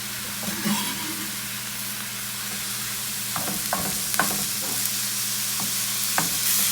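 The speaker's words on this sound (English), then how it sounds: "I'm supposed to cook this down until all the moisture from the onions has evaporated." Mushrooms and onions fry steadily in a pan, cooking down for a tuna cake and mini frittata meal prep, with a soft continuous sizzle broken by several sharp scrapes of a utensil.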